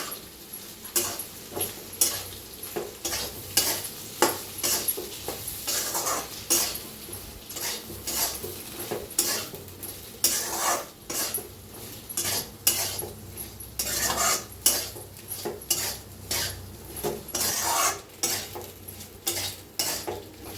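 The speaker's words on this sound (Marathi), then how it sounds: "दोन चमचे चवीप्रमाणे मीठ शेंगदाण्याचा कूट दोन चमचा मिक्स करून घेऊया" A spoon stirs potato and okra fry with peanut powder in a pan, a steady scraping and clinking that keeps going throughout at close range.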